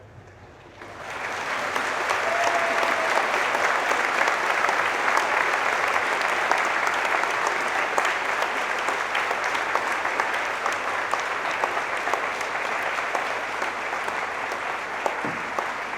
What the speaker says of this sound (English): Please stand up, a big round of applause and cheer.